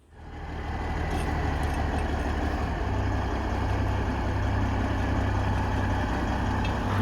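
A tractor fitted with a wet kit idles steadily at close range, a continuous low engine rumble that holds constant throughout with no talk over it.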